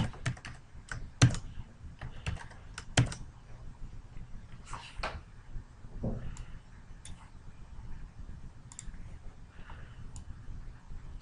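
Typing an Excel formula on a computer keyboard: close, steady key clicks in quick uneven bursts with a few sharper presses, continuing throughout with no talking.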